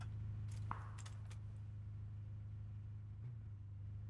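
A car driving in the PUBG video game gives a steady low engine drone throughout, with a brief metallic clink near the start and no voices.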